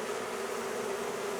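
Honey bees from a small swarm-caught colony hum in a steady, continuous drone, close and even throughout with no voices.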